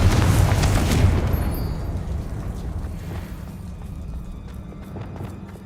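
A Confringo spell explosion in the video game Hogwarts Legacy, a loud low boom with crackling debris at the start that slowly fades into a lingering rumble.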